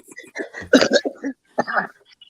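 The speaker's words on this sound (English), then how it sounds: "Coughing that crap up." A person coughs harshly in a few close, loud bursts, with throaty rasps and a short pause between fits.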